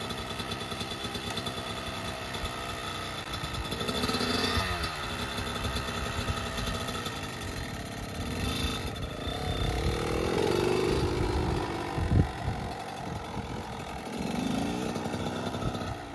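A dirt bike engine runs at low RPM in first and second gear across a wide open field, a steady mid-pitched putter that holds fairly even with slight swells, heard from some distance.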